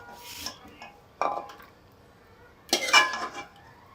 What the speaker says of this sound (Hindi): अब इसको डिश आउट करने लगे हैं।